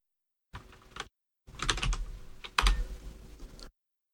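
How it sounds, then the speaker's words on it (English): Keystrokes clatter on a computer keyboard in two close, crisp bursts of rapid typing separated by a short pause, heard alone with no talk. "If I can type."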